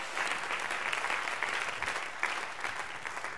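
A church congregation claps together in a steady, dense wash of applause that holds throughout, fairly near and even, with no voices over it.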